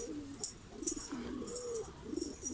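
A homing pigeon coos softly in a low, rolling series of short calls, with faint higher chirps and sounds from other birds nearby.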